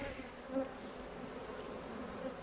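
A honeybee colony buzzes during a winter hive inspection, making a low, faint, continuous drone with a couple of brief nearer swells as individual bees pass close.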